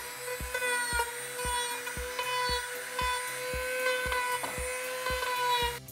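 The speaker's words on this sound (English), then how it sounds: "this rotary tool with a little grinder on the end. We're going to use that to just put some scrapes in the wood." Rotary tool fitted with a small grinder bit scraping wood for a rustic picture frame, a steady high-pitched whine with a regular ticking pulse roughly every half second, close and alone without speech.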